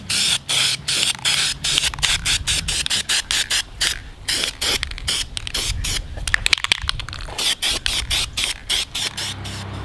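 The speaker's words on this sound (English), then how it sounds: "we're gonna spray down 2 more coats of red on the top right here" Rapid hissing bursts from a spray paint can apply red coats to a car brake caliper, coming in quick repeated pulses close to the microphone with no talking.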